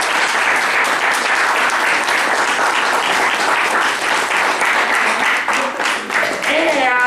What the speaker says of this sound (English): we should give a big hand of applause to Jerry Trachtman